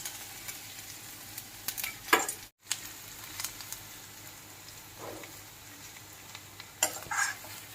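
Garlic fries in a kadai or wok, a faint sizzle broken by scraping stirs and light clatter of a utensil against the pan, with a brief silent gap partway through.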